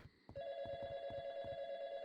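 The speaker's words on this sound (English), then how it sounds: "Phone is ringing." A telephone rings in the video game YiiK, a steady electronic ringing tone that starts after a brief pause and continues loud and unbroken, with faint low thumps beneath it.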